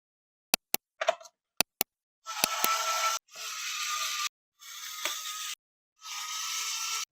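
Screws being driven into a Gear Up Raider toy blaster: a few sharp isolated clicks, then four evenly spaced bursts of whirring from a powered screwdriver, each about a second long with short pauses between.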